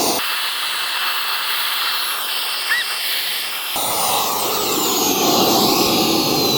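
An electric air pump inflates an inflatable tube at a campsite, powered through the V2L outlet of a Hyundai Ioniq 5; a steady airy whir and hiss runs throughout and grows louder and fuller partway through, with no talking.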